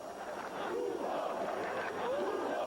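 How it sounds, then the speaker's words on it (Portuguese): A football stadium crowd at a Brazilian league match erupting in anger, a dense roar of many shouting voices with rising and falling jeers, loud and sustained throughout. "Motivo suficiente para a torcida explodir em irritação."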